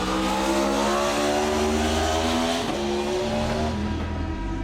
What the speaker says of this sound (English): a howling V4 engine